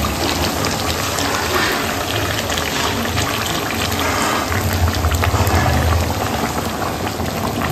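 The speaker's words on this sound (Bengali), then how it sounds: "আর পাশে জল রাখা হয়েছে, এটা গরম করে মাটনে ঢেলে দেবো।" Hot water pouring into a pot of mutton curry on the stove, a steady bubbling, hissing wash that runs continuously at close range with a slight swell near the end, no voices.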